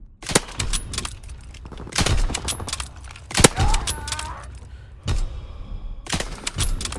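Artillery barrage in Call of Duty WW2 multiplayer: a string of heavy explosions and sharp gunfire bursts land one after another, loud and booming with debris rattling between blasts.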